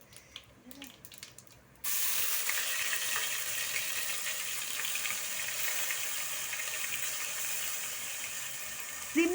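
Ginger-garlic paste frying in an oil-filled pan with cinnamon, cloves and fennel for chicken biryani: after a few soft clatters, a loud, steady sizzling hiss starts suddenly and runs unbroken and close until the end.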